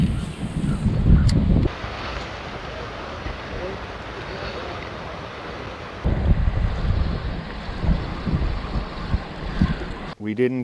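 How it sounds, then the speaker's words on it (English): Strong wind roars and buffets the microphone beside a lake where a small fishing boat is out. Loud, steady gusts fill the whole stretch, surging harder at the start and again later, with no voices. "we're getting a little tired of the wind"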